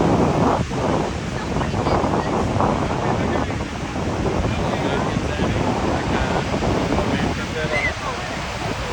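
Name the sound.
Niagara Falls water splashing and spray, Canada side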